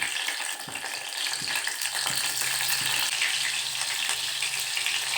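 Green chillies frying in hot oil in a bowl on a stove, a steady bright sizzle with crackling pops running throughout, loud and close with no talk.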